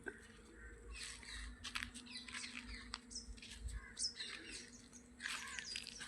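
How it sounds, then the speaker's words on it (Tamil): An Asian koel calls faintly from a distance in a mango orchard, its notes scattered among other bird chirps over a steady low outdoor hum. "குயில் கூவுது"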